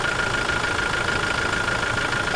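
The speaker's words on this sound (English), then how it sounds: "so we've just started the vehicle" A Toyota Hilux N80 engine runs at a steady idle just after starting, following a fuel filter install. It gives an even, continuous rumble up close, with no talking.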